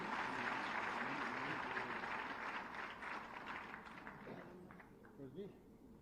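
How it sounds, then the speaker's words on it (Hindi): Applause for an honoured woman at a women's award ceremony, a crowd clapping that fades over several seconds as a voice begins speaking over the tail. "उनके लिए जोरदार तालियां"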